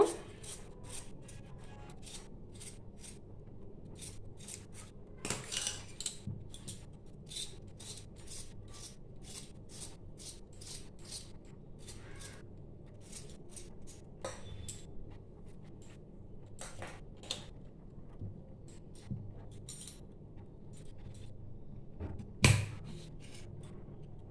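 Medium-sized potatoes being cut into thin, small pieces for a Bengali dish. Short, crisp chops and scrapes repeat in an irregular rhythm over a quiet kitchen background, close and fairly soft, with no talking.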